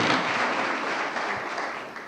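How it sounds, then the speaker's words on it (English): An audience at a contractors' day event gives a round of applause, a dense steady clapping that fades slightly near the end. "Give him a round of applause."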